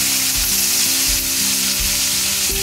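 Okra frying uncovered in a pan for garlic-chilli okra fry, a steady close sizzle with occasional bursts from stirring, loud and continuous with no talk.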